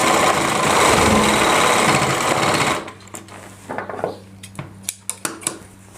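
An electric sewing machine stitching a heavy-work Rajputi lehenga runs in a loud, fast, steady whir for about three seconds, then stops, followed by sharp clicks and taps of handling.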